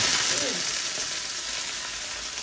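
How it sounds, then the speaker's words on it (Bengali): Dried shutki fish fries in white oil with a steady, close hiss and crackle of sizzling throughout, with light stirring under it. "এখন আমি শুটকিগুলা এই সাদা তেলের মধ্যে করতেছি"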